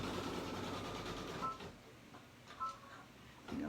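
An embroidery machine stitches an in-the-hoop compact mirror, running a steady mechanical whir that drops off partway, then gives short bursts of stitching near the end, alone with no talk.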